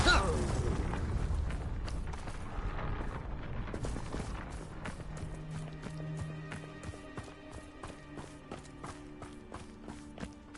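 A Confringo explosion spell in the video game Hogwarts Legacy erupts in a loud, broad blast that decays into a rumbling tail, with game music and clicks emerging as it fades.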